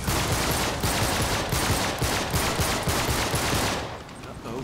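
Pistol fire in Uncharted 3 rings out as a rapid, steady string of loud, close shots, running for about four seconds before cutting off into quieter background sound.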